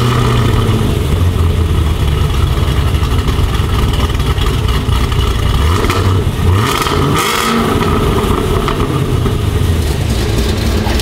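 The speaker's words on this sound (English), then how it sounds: "let's fire it up. Let's hear the tone differences." A Hennessey-modified car engine on a stock exhaust starts and revs, producing a loud, continuous engine roar with a few rising rev swells near the middle and no talking.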